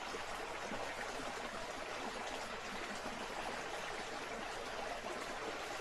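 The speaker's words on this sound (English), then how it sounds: "So we are on this creek." A creek flowing in the Ottawa National Forest gives a soft, even rush of water, faint and continuous with no voices over it.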